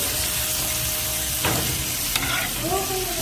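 Pork fries in a pan over a gas flame, a loud steady sizzle close up with a few scraping stirs and clinks of a utensil partway through.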